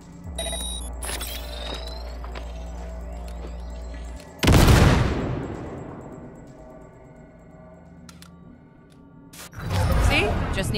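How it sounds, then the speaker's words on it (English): A grenade detonates in Cyberpunk 2077 with a loud, sharp boom around the four-second mark, followed by a second burst near the end, over a steady game soundscape with a low hum and scattered electronic tones. "Now, detonate the grenade."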